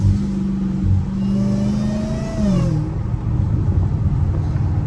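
An 800 hp Dodge Hellcat Redeye with exhaust valves accelerates close by, its engine droning loudly with a rising supercharger whine that climbs in pitch, dips, then swells again.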